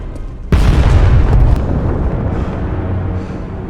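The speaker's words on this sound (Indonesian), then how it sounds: "perahunya meledak." A boat blows up from a jelly bomb in the Avatar cartoon: one sudden, loud, deep boom that rumbles on and slowly fades over a few seconds, with no voices.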